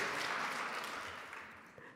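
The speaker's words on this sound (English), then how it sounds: "please, feel free to clap on" An audience at a talk on authenticity in leadership breaks into applause, a fairly faint, steady patter of many hands that gradually fades out over two seconds.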